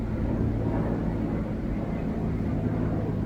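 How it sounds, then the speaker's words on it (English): A military plane or helicopter passing overhead outdoors, a loud steady low rumbling drone that fills the whole clip without talk. "there's a military plane going over, or a helicopter going overhead"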